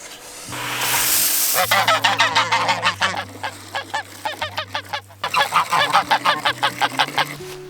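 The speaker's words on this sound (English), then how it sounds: "The geese are down here after their day in the pasture." A flock of geese honks loudly and close by, a rapid run of repeated nasal calls that pauses briefly and then starts again.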